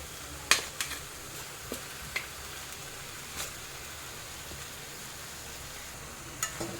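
Grated jaggery drops onto raw mango already frying in ghee, making a quiet, steady frying hiss with a few sharp taps and clicks from utensils against the pan.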